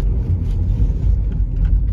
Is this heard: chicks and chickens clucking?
no